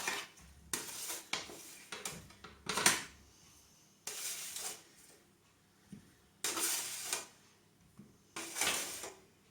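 Baked potato wedges are tipped and scraped into a serving dish in a home kitchen, several separate bursts of clattering utensil and dish knocks with quiet gaps between them.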